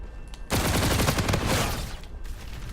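Rapid, loud gunfire bursts in a first-person video game, with shotgun blasts fired at close range during an indoor push; dense overlapping shots fill most of the moment before easing off.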